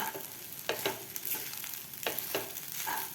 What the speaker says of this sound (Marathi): आपल्याला व्यवस्थित हे मिक्स करून घ्यायचं आहे